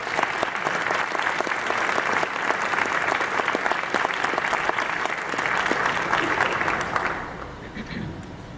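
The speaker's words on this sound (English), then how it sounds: "Please put your hands together to welcome Nick Scaggs." A commencement audience gives a graduation speaker a loud, dense round of applause that stays steady for several seconds and then quickly dies away, with some crowd voices mixed in.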